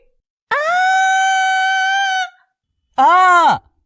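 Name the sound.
woman screaming in fright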